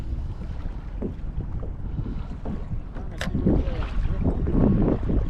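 Wind gusting across a small fishing boat drifting on the Gulf, a steady broadband rush with low buffeting that swells louder toward the end, water and hull noise mixed in.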